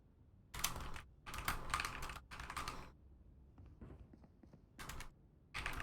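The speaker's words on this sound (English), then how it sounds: "I was typing in chat anyways" Bursts of rapid clacking keystrokes on a computer keyboard, several separate runs of typing with short pauses between, close and fairly loud, with a few scattered lighter clicks in the gaps.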